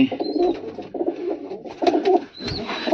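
Pigeons coo steadily and close by in repeated low, throaty phrases, with faint higher chirps at times and no talk over them.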